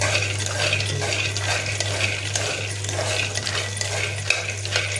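Peanuts roasting in a pan for tomato chutney, stirred steadily with a utensil, producing continuous scraping and rattling of nuts against metal under a constant low hum, with no talking.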